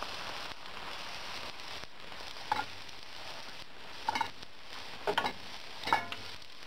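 A wild asparagus omelette fries in a pan with a soft, steady sizzle, faint and close, with a few light scraping taps of a utensil.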